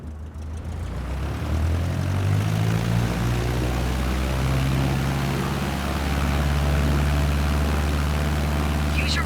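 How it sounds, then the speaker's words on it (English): Propeller plane in Microsoft Flight Simulator 2020 taking off at full power: a loud, steady engine drone that rises in pitch and builds as the aircraft accelerates, continuous and close throughout without speech. "Apply full power and I'll walk you through the takeoff as we go."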